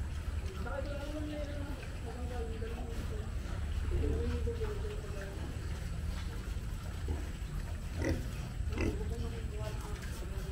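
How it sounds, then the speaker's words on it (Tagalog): A pig grunts at a family home in Tanauan, Batangas, with short low snorts coming and going against a background of people talking nearby. "Baboy."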